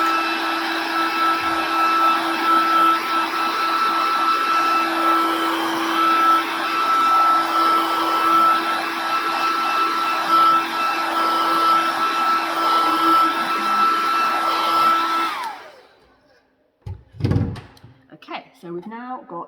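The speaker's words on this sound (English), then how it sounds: "I'm just going to blast it with a hairdryer." A hairdryer blasts steadily on freshly applied stencil paint for about fifteen seconds, a loud constant whine with a steady hum, then cuts off abruptly, leaving brief scattered handling knocks.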